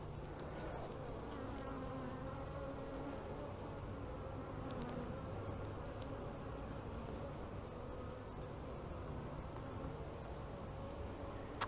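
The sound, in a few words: honey bees buzzing in a queenless hive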